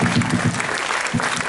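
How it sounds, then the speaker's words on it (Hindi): Audience at an interactive leadership session bursts into loud, dense applause, a steady clapping wash that carries throughout without fading. "बस बस जोरदार ताली दो इसके लिए।"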